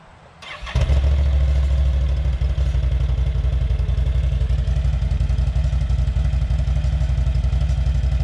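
An engine cranks briefly, then catches and settles into a steady, loud, close idle through an RJWC Krossflow Mud Edition exhaust, holding a deep, even rumble with no talk over it.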